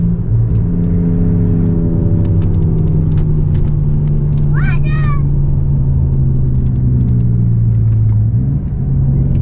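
Steady engine rumble and road noise from a Chrysler car cornering at about 46 mph on Eibach lowering springs, heard from inside the cabin. The drone holds nearly unchanged, with a short chirpy squeal midway and a slight shift near the end.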